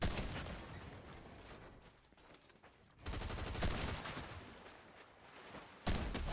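Loud, dense video-game gunfire in rapid overlapping volleys, close by, easing briefly before resuming in heavy bursts, with no talking.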